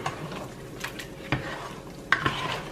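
Drained canned butter beans are stirred into a pot of Jamaican oxtail stew, giving wet, sticky slops and a few sharp spoon scrapes and clinks against the pot, close and alone.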